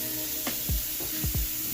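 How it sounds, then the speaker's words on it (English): Beef for a Philly cheesesteak sizzles in a hot pan, a steady close hiss broken by a few short bursts and crackles as meat is stirred or added, with no talking. "Y'all hear that sizzle?"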